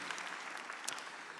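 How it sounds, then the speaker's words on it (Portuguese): An audience at a Catholic religious gathering claps steadily in a dense, even wash of applause, fairly distant and soft, with no voices standing out. "Vamos dar uma salva de palmas a esse santo homem de Deus"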